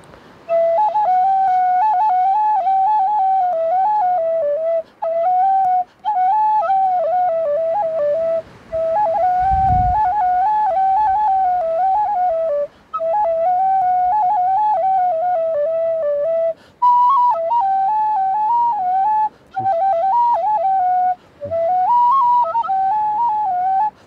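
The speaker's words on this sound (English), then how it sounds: "I would like to play some Tin Whistle song for you." A tin whistle plays a lilting, ornamented Irish tune outdoors near the ocean at Ballyferriter Bay, Ireland, in a bright, clear tone, with brief pauses for breath between phrases.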